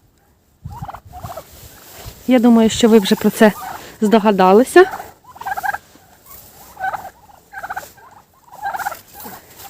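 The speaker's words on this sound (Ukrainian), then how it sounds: "Сьогодні відео буде про індиків." Turkeys gobble in warbling bursts nearby while a person speaks over and between the calls.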